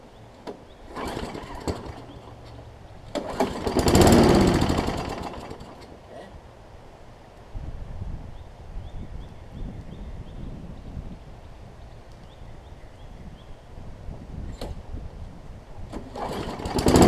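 A Craftsman Eager 1 push mower with a carburetor needing its jets cleaned sputters and briefly roars to life, then falls back to a low uneven rumble before revving again at the end.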